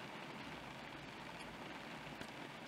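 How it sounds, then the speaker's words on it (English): Light June rain falling in Rocky Mountain National Park along Trail Ridge Road, a faint, steady patter of fine drops that runs on evenly without a break. "It started raining on us."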